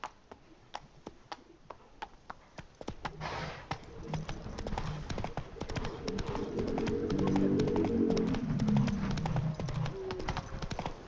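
Hooves of the horse in the video game The Witcher 3 clip-clop in a steady run of light, even steps. Birds and ambient game sound fill in behind them and grow to a louder, fuller bed partway through.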